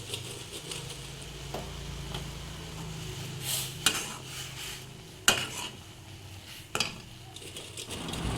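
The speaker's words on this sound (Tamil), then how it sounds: "கொதி வந்த பாலில் உடச்சி வச்ச பிரெட்டை கொஞ்சம் கொஞ்சமாக ஆட் பண்ணி" Broken bread stirred into boiled milk in a pan for bread halwa, with a steady scraping and gentle patter of the spoon against the pan and a few sharper clinks.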